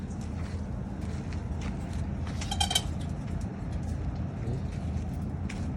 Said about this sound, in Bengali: ঘুঘু তো অনেক আছে রে